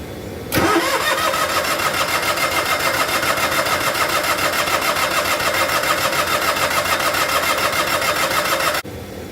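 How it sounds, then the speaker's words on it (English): An Onan DJB diesel generator engine, jump-started from a truck, cranks and quickly catches, then runs loud and steady with a fast even chug at close range until it cuts off abruptly near the end. "We'll see if we can get it cranking enough to get it actually to start."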